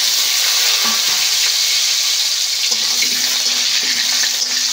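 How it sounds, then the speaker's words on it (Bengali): Potato pieces fry in hot oil with asafoetida, a loud, close, continuous sizzle with a few soft stirring knocks against the pan and no voices. "আলুটা বেশ একটু লাল লাল করে ভেজে নেব"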